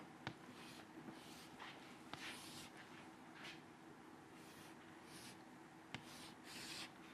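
A lecturer draws a direct extrusion diagram on a classroom board. Faint scratchy strokes come in short bursts, broken by a few sharp taps of the writing tool against the board, with no talk.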